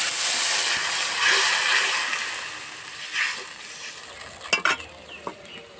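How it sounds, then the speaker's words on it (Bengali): Water goes into a pan of fried spice paste for an egg omelette curry, setting off a loud continuous sizzle with stirring, then a few sharp splashy bursts and clinks near the end. "এবার দিয়ে দেবো জল।"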